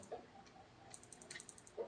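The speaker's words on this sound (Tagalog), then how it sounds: "Kung maririnig nyo, meron siyang tiki-tiki-tiki-tik. Tiki-tiki-tiki-tik. Yun yung pinaka-ignition niya." A battery-powered electric igniter on a gas stove ticks in a fast, quiet run of clicks, faint and close against low background hum, with no talking.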